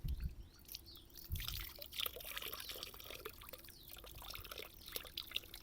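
Water pours and trickles into a small irrigation channel on a village farm, a soft, steady flow with faint splashes and drips, quiet and close, with a bird now and then in the background.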